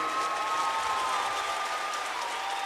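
Crowd at a Siege community event applauding and cheering in a steady, dense roar of clapping that fills the whole stretch, loud and continuous with no pauses.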